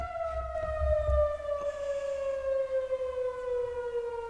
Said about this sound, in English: It's just an incredibly loud tornado siren.